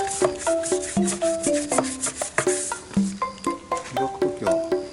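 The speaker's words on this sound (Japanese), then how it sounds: "ホイール磨いていきます。" A car alloy wheel is rubbed by hand with a cloth and cleaner, giving a series of rhythmic close-up rubbing strokes with faint squeaky, tonal scrapes, no talk.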